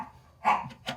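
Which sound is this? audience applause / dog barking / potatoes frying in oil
dog barking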